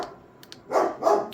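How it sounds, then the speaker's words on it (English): A dog barks twice in quick succession at moderate distance, short sharp yaps after a quiet pause with a few faint clicks. "Sorry about the dog barking."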